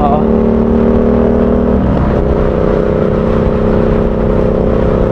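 Motorcycles overtake on a road, with a loud, steady engine drone and wind rumble that shifts pitch partway through as the bikes accelerate past.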